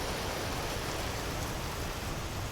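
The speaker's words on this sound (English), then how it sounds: "Damn, hail is loud." Hail pounding down in the survival game Vintage Story makes a dense, steady roar of rain-like noise that stays constant and heavy throughout, with no voices.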